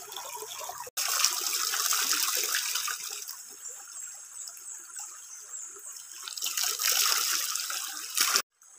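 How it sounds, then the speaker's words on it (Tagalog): Creek water flows and splashes in a steady, close rush, with small gurgles and trickles over it and a brief cut near the start and end. "Oh, mao ni siya ang sapa."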